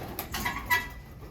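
Pigeons settled into a new loft give a few short, close coos and soft calls in quick succession over a low background rumble.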